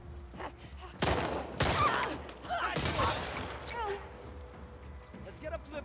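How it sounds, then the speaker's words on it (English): Bursts of gunfire in The Last of Us Part II, with two heavy volleys close together and a scatter of weaker shots afterward, mixed with voices talking over the action. "Who's shooting, Manny?"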